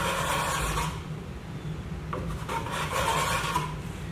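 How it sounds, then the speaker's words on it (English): A steel trowel spreads drywall joint compound along a seam, giving a steady, close rasping scrape that runs almost without a break and carries no voices. "I'm going to use my trowel to put the mud down on the joint."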